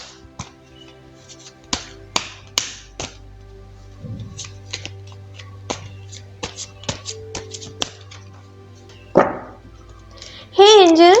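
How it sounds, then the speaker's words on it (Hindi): Tarot cards are shuffled in a series of sharp taps and riffles, spaced irregularly, under a steady hum, followed by a rushing swipe and a voice speaking at the close. "तो चलिए पहले ज़रा कार्ड्स को शफल कर लेते हैं।"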